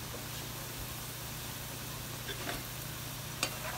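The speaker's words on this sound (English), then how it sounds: "make sure that your oil is really nice and hot, and then we're gonna place these in there" Small chocolate dough puffs frying in hot oil give a steady, close sizzle throughout, with a couple of faint pops and stirring clicks near the end.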